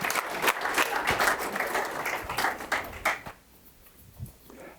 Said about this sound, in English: May I have an applause for Tom?